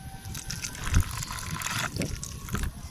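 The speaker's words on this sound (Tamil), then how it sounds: "சர்க்கரை பாவு எடுத்து இதில் ஊற்றணும்" Warm sugar syrup is poured over fried boondi for motichoor laddoo. A soft, close liquid trickle and splash lasts a few seconds, with light clinks from the pot and ladle.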